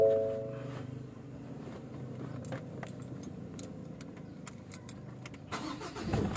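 Keys jangle before a 2019 Ford Ranger XLS engine cranks and starts, settling into a low, steady idle close by, with another short clatter of keys near the end.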